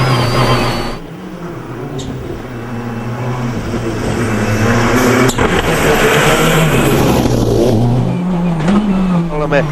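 A Peugeot 307 WRC rally car on a Monte Carlo Rally stage snarls loudly and steadily close by, its engine revving up and down through gear changes for the whole stretch.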